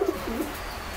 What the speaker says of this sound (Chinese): 朋友们，你们家里有这样的小鸽子吗？